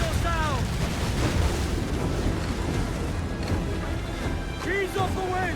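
Ship cannons boom during a naval battle in Assassin's Creed IV: Black Flag, a loud, continuous roar of blasts and rumble with shouting voices heard over the din.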